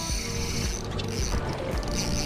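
Fishing reel drag whirring steadily as a hooked Atlantic bonito runs, a continuous close mechanical ratcheting buzz with no speech over it.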